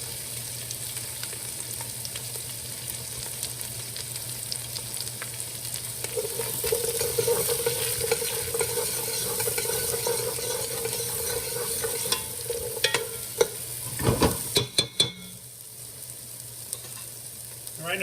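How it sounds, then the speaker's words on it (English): Mirepoix vegetables go into a pan with extra oil over medium-high heat and sizzle steadily up close. A few sharp clatters of a utensil and the pan sound near the end. "Add a little bit more oil. I'll add in our vegetables,"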